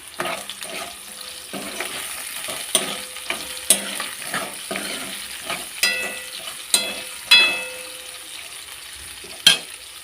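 Chopped onions fry in a pan for carrot curry, a soft, continuous sizzle broken by sharp, irregular clinks and scrapes of a spoon stirring against the metal, close by and without speech.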